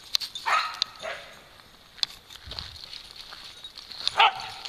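Dogs barking while chasing each other around a steep hill, sharp scattered barks and yips at moderate distance with pauses between them.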